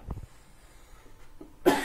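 A person coughs in a quick burst near the start, with a harsh breathy burst near the end, while pickling hot garden peppers mixed with tomatoes at home.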